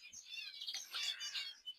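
Japanese munia (emprit jepang) chirping in a fast, continuous run of thin, high twittering notes, close and fairly soft, with no talk.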